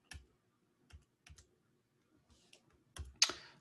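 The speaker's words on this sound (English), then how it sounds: "if you type it in your calculator" Fingers tap numbers into a calculator, a few quick clicky key presses in small clusters with short pauses, close and fairly quiet in an otherwise silent room.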